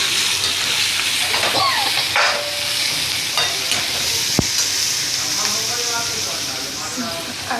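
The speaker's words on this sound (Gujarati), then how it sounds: "સાંભારનો વઘાર કરી ડુંગળી ટમેટાને એ બધું નાખી" Sambar tempering with onion and tomato sizzles loudly and continuously in hot oil, with stirring scrapes and a sharp click midway, and a voice faintly present in the background.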